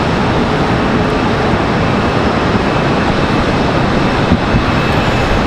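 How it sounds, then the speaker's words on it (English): Boeing 737 airliner at Charlotte Douglas airport undergoing flight control testing, heard as a steady, loud broadband engine roar that holds even throughout, with no talk over it. "Flight control testing being done on that 737."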